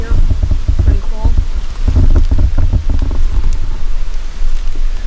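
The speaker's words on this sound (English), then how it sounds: "Nice and windy up here." Strong wind on a high rock on Isle Royale buffets the microphone in gusty bursts, a loud rumbling roar that swells and eases over a few seconds.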